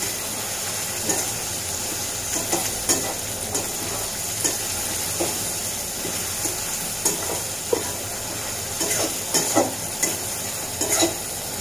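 Dried fish (shutki) frying in a pan for a Cox's Bazar hotel-style bhuna, a loud continuous sizzle punctuated by repeated stirring scrapes and spatula knocks, close up and without talk.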